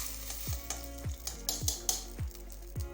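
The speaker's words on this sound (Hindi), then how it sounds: "अब हम इसमें चावल डालते हैं।" Rice tipped into boiling water in a pot for cumin rice, giving a series of close, regular splashy drops with light sizzling hiss between them, no speech.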